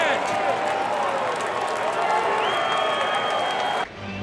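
A packed baseball crowd at Busch Stadium roars and cheers in a sustained, loud swell, with a whistle rising through the din before the noise cuts off abruptly.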